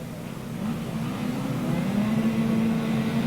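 Left-hand grasstrack racing sidecar engines revving together on the start line at a British championship round, a loud sustained drone with pitch rising and swelling, heard alone.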